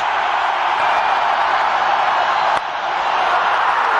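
Roaring crowd at a cricket stadium in Bangalore during an India versus South Africa one-day international, a steady loud wall of cheering with a brief dip near the end.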